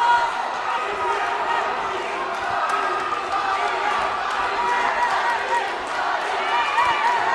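A dense, roaring crowd of fans fills a Muay Thai fight venue with continuous cheering and shouting, loud and close throughout, and a commentator's voice runs over it.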